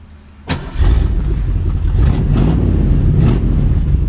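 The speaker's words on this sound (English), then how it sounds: "there's no mufflers left at all. It's just uncorked." A rusty barn-find Ford Mustang with its mufflers gone and exhaust fully uncorked catches with a sharp crank, then settles into a loud, rough, booming idle with a few blips of throttle, close by.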